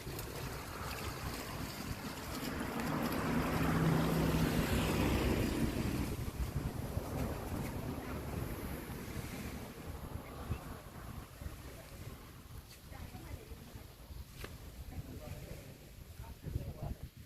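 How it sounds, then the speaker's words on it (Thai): Steady wash of sea waves with gusting wind rumbling across the microphone, fairly loud, swelling in the middle then easing into a continuous roar. "เดี๋ยวจะพาไปฟังเสียงทะเลนะคะ"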